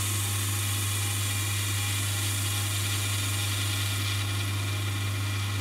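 Wood lathe spinning a turned pear while a cloth is pressed against it to heat the finish, a steady loud motor hum with a constant high whine and a faint rubbing hiss, unbroken throughout.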